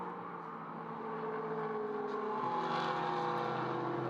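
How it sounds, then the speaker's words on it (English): Chevrolet Corvette GT race car at Mugello, its engine droning and climbing in pitch as it pulls through the first sector, a sustained grunt heard from a distance under a broadcast mix. "That Chevrolet Corvette pulling some grunt in the first sector"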